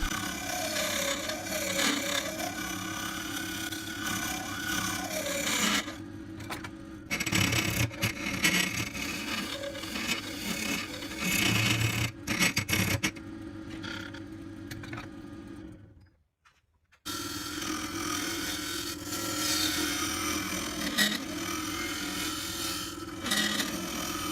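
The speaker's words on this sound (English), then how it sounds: "Now I'm going to reverse the direction of the lathe" A woodturning lathe spins a hard wood bowl as a tool cuts it, giving a continuous scraping, rasping hum that is close and loud, briefly drops to near silence as the direction is reversed, then resumes.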